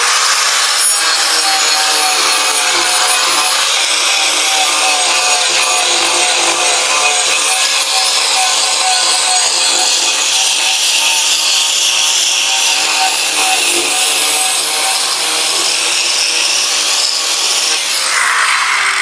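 Angle grinder fitted with a wood sculpting disc shaping timber, a continuous loud abrasive roar of rasping and sanding that holds steady for the whole stretch, close up with no pauses.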